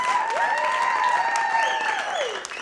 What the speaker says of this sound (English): Give Ange a round of applause for her tits.